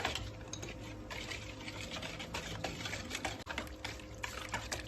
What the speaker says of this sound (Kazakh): Ұнымызды жақсылап араластырып отырамыз.